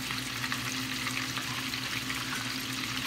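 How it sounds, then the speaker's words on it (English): A hamburger steak patty, browned on both sides, fries in a pan with a loud, steady, close sizzle that holds evenly throughout, with no talking. "now that your burger has browned a little on both sides, you're gonna take it out of the pan"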